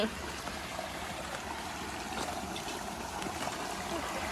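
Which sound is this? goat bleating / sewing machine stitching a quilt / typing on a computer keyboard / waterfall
waterfall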